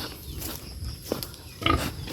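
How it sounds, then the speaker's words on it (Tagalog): A pregnant sow on a farm gives a few low, short grunts at feeding time. They are moderately faint, mixed with rustling and shuffling nearby. "pakainin natin yung baboy natin"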